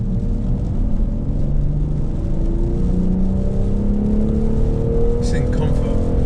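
A BMW M760Li V12 luxury saloon driving, heard from inside the cabin as a steady low engine and road drone with smooth rising tones as it accelerates, continuous and even throughout.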